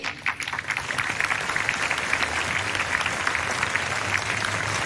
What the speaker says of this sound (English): Let's give it another round of applause to Sister Nelly.